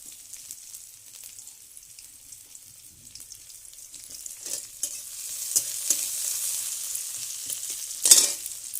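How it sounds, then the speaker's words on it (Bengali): Chopped onions frying in a pan, starting as a faint soft hiss that gradually strengthens with scattered stirring clicks and spits, topped by a sharp louder sizzle burst near the end. "ততক্ষণ পেঁয়াজটা ভাজা হোক"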